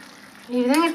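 Chopped onion pieces frying in a pan, a soft, close sizzle in a single short burst, with a voice speaking over it.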